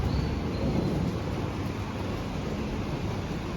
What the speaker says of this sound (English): Now you can hear the thunder.